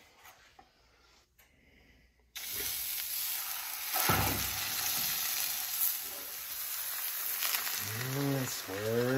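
Crepe batter hits a hot greased pan and bursts into a steady, bright sizzle that continues without letup, with a few scrapes and a short whoosh of swirling. A soft voice murmurs briefly near the end.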